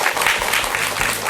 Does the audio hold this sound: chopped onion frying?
no